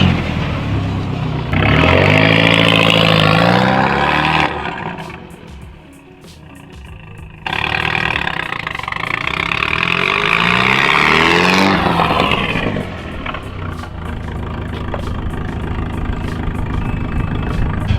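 A car engine close by swings between high revving surges and lower idling, with repeated rises and drops in pitch and loudness over a steady rumbling base, no talk.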